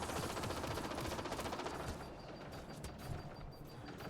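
A deployed turret in the video game Mass Effect Andromeda fires a rapid, mechanical burst of automatic shots that rattles steadily for about two seconds, then gives way to quieter scattered clicks and whirs.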